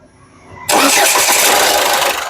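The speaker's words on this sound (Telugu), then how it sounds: "సింగిల్ సెల్ఫ్ లో కార్ స్టార్ట్ అవుతుంది ఎటువంటి స్టార్టింగ్ ట్రబుల్ అయితే లేదండి" A 2015 Ford EcoSport Titanium fires up after a short crank whir, catching at once and settling into a loud, steady idle close to the microphone.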